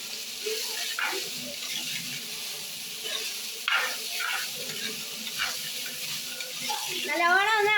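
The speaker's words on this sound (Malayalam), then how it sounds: "നല്ലവണ്ണം ഇളക്കി കൊടുക്കാം" A curry with tomatoes and Malabar tamarind is stirred in a pan, with intermittent close scraping strokes over a low sizzle and a rising tonal whine near the end.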